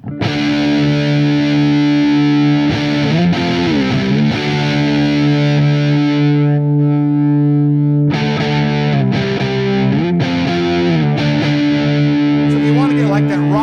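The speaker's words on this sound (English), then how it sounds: "put it in the neck position and play a little bit again" An EVH Wolfgang Custom Standard electric guitar on its neck pickup plays heavily distorted chords and sustained notes, loud and close, with brief pauses and bends between phrases.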